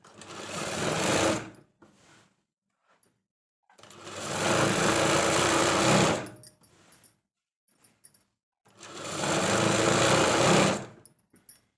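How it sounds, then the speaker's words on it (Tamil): A sewing machine stitches the hem of a girl's school uniform skirt in three long, loud, close runs of fast mechanical whirring, separated by short quiet pauses. "ஜாயின் பண்ணிட்டு தான் கீழே தையல் அடிக்கணும் ரெண்டு தையல் போடணும்"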